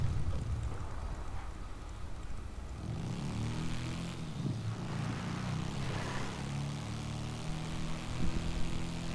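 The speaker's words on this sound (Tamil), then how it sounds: "இது அப்கிரேட் பண்ணிட்டு என்ஜின் சவுண்ட் பாரு, சூப்பராக இருக்கும்." An upgraded vehicle engine in GTA V Online drones steadily with a throbbing, propeller-like hum that swells and settles, moderately quiet and heard alone throughout.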